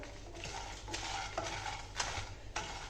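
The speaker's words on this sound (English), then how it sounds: "I'll put everything at one go and give it a quick stir" Spices dry roasting in a pan for crab ghee roast, stirred with a utensil: a continuous dry sizzle broken by several sharp scraping clacks against the pan, close and fairly loud.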